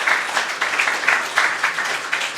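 Audience applauding a team at a live anniversary event, steady rhythmic clapping from a crowd that pulses evenly and holds at moderate loudness without talk.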